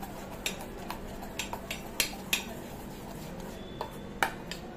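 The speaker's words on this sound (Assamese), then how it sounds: "এইখিনি মই ধুনীয়াকৈ কিন্তু এনেকুৱাকৈ ফেটি লৈছোঁ তেতিয়া বৰাবোৰ ধুনীয়াকৈ ফ্লাফি হয়" Lentil batter for fluffy bora fritters is beaten by hand in a bowl, with soft irregular taps and a few sharper clinks of utensil against the dish, quiet and with no voices.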